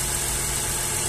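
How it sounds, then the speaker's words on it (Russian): Ford Mustang engine idling just after starting, a brief steady mid-pitched hum with faint vibration, close and fairly loud with no voices. "Так, моторчик запустили."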